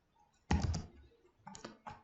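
Keyboard typing on a computer during a WiFi network setup, a quick cluster of loud key clicks followed after a pause by a few lighter taps, close up with no talking.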